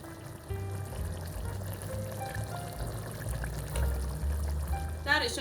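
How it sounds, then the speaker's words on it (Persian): Sauce liquid poured over fried chicken in a pot makes a soft, continuous pouring and splashing sound, with musical tones underneath. "کمی از آب سس روی مرغ‌ها میریزیم."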